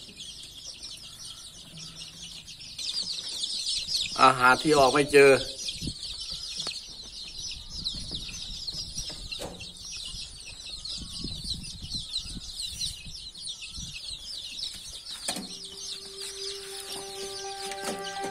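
A hen clucks inside a chick nursery box, with soft repeated clucks and a louder burst of calls close by while a person talks over the scene.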